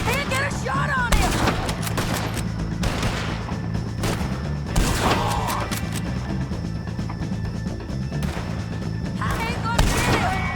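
Rapid gunfire in Red Dead Redemption 2 during a fight with O'Driscoll gang members, sharp repeated shots cracking over a constant background, with voices shouting at times.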